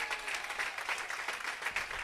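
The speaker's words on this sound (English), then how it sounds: "Give him a big round of applause." Crowd applause at an outdoor Cinco de Mayo parade celebration in Gardena, a steady wash of many hands clapping at moderate distance, even and sustained for the whole stretch.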